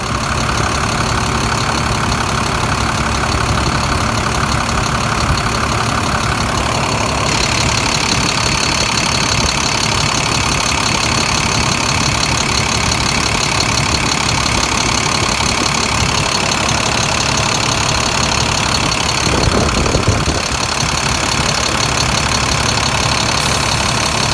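An International DT466 diesel engine idling roughly and shaking a bit, a loud steady close-up rumble with a constant knock throughout and a slight change in tone partway through.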